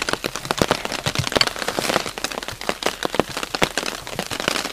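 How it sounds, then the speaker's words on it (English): Rain patters densely on a cotton tarp waterproofed with beeswax, a steady close crackling of many drops striking the fabric with no pauses. "It's starting to rain"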